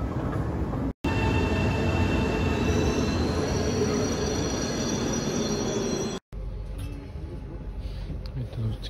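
Stockholm metro train running through a rock-cut tunnel, a loud steady roar of wheels with high squealing tones across most of the stretch, broken by two brief dropouts, with faint voices underneath.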